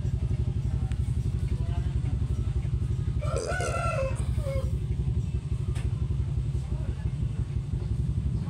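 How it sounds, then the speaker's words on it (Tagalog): A rooster crows loudly from close by at a game venue, one full cock-a-doodle-doo over a constant, droning rumble of engine-like background noise. "Napakaingay pong manok dito sa aking gilid."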